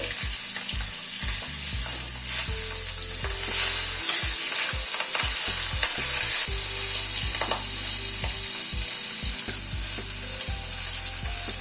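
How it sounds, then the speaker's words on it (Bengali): Fish pieces frying in hot oil for a light fish curry give a loud, continuous crackling sizzle close up, with occasional scraping and clattering from turning or lifting the fish. "মাছগুলো ভাজা হয়ে গেল, তুলে নিচ্ছি।"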